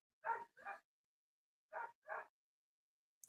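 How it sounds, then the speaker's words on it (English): A dog barks in two quick pairs, close and fairly loud, with short gaps of silence between the doubled barks. "Dog just barks. He barks to bark."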